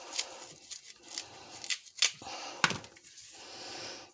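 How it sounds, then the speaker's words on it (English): A knife slipping between the peel and flesh of a plantain, giving a few short scraping, snipping sounds spread over about four seconds, close and fairly quiet. "just move the knife between the peel and the banana."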